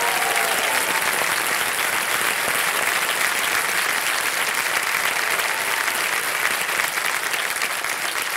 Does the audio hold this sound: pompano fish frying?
no